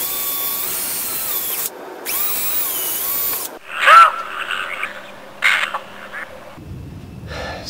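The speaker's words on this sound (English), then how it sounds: "And I'm going to drill through." A power drill whines in several bursts while drilling through 4-inch PVC pipe, its motor pitch rising and falling, separated by short pauses and some clattering.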